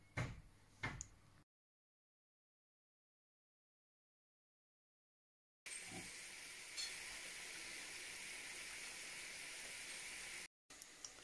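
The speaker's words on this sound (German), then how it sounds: "die gebe ich jetzt gleich in die Pfanne und werde die anbraten." Steady frying sizzle of vegan oat and zucchini patties in a pan fills the second half, loud and continuous, after a few brief clatters and a stretch of silence.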